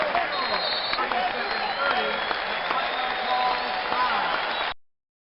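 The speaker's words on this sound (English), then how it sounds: "You get a cheer too." A cheer sound effect plays on a Transport Fever 2 livestream: steady crowd applause and cheering, loud and continuous for nearly five seconds, then cut off abruptly into silence.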